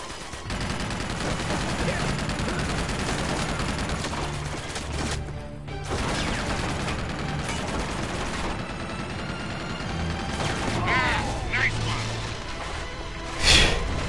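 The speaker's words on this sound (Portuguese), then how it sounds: "joga uma granada" In Uncharted 2, a grenade explodes amid sustained gunfire, with dense bursts of shots and impacts throughout and a loud blast near the end, while players talk over the action.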